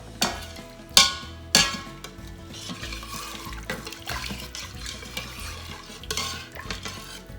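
A spoon stirs roasted cracked wheat (dalia) into hot water in a pot, with a few sharp metallic clinks against the sides followed by continuous sloshing and scraping, close up and with no talking.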